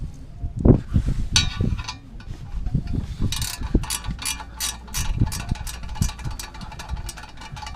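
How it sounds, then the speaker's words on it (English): Ratcheting 10 mm wrench loosening turbo heat shield bolts on a Subaru, close rapid clicking in short bursts mixed with metallic knocks and handling noise, no one talking. "A ratcheting wrench works really well,"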